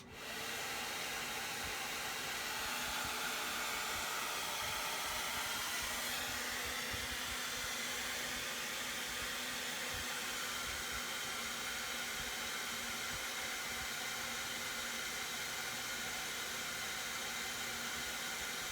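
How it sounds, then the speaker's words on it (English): A hair dryer powered by a portable solar generator blows steadily at close range, a loud continuous airy whoosh with a low motor hum that never lets up, as heat and power are raised. "I'll just continue to raise the heat and the power of the hairdryer"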